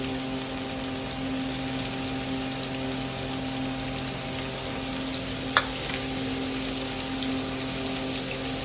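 Two finely chopped onions sizzling in a spoonful of hot oil in a pan, a steady close hiss throughout with a faint clink partway, no voices.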